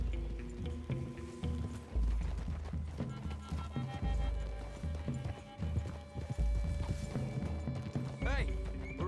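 Horse hooves clip-clop steadily through a wooded clearing in Red Dead Redemption 2, a continuous rhythmic trot under game music and occasional voices, with a brief whinny near the end.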